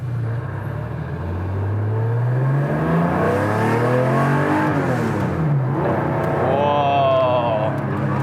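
A CSF-built Porsche 911 engine revs up from a low rumble, pitch climbing steadily through the gears with a brief shift dip, loud and close from inside the car.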